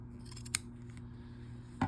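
Scissors trimming quilt binding fabric, two sharp close snips about a second apart over a quiet low hum.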